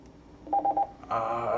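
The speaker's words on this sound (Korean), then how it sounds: "전화가 와서 미안합니다" An incoming call on a telephone sounds as three short, evenly spaced beeps followed by a steadier, louder ringing tone, close and clear with no talk over it.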